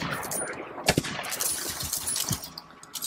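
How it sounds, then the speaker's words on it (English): Gunfire from the shooter video game Borderlands 3, several sharp shots cracking out at uneven intervals over a busy, noisy game mix, fairly loud and close. "Man, four shots go by quick."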